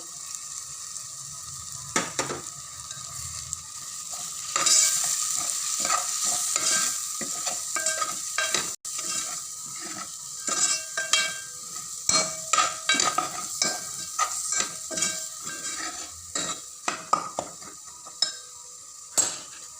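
Spices sizzle in a hot pan for usal while a spoon scrapes and stirs, a steady frying hiss broken by frequent metallic clinks and scrapes close by.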